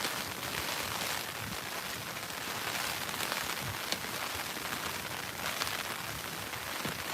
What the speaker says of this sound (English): Be nice if the rain would go away a little bit, but that probably won't.